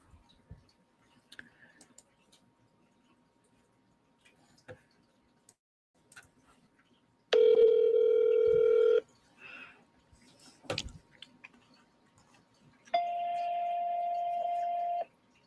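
Ringback tone of an outgoing cold call to the owner of a vacant property: two long, steady electronic ring bursts several seconds apart, with faint clicks and quiet line noise between them.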